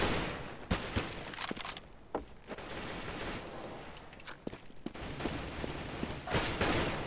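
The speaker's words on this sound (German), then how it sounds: "Das war ein schöner Schuss von Beast." Rapid bursts of video-game gunfire in Counter-Strike on de_dust2 crackle in quick volleys, punctuated by sharper individual shots over a steady background hiss.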